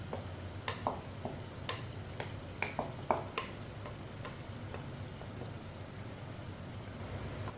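Ground spinach saag being stirred in a pan over low heat with spices, giving scattered scraping clicks and soft sizzling at close range, alone without talk.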